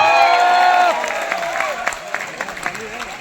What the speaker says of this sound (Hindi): इस आयोजन के लिए जोरदार तालियां होंगी